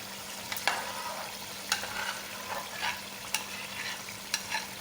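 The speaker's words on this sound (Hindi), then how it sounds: "अब हम कद्दू का जो पेस्ट बना के रखा था वो हम डालेंगे।" Round ghiya pumpkin paste stirred into a hot frying pan for a salan with peas, giving a steady close sizzle with regular scraping stirs every second or so and no talk.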